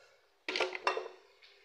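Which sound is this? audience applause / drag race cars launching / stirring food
stirring food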